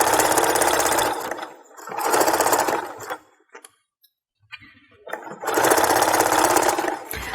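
Home sewing machine stitching Christmas stocking fabric with a backstitch, loud rapid needle bursts in three runs separated by short quiet pauses.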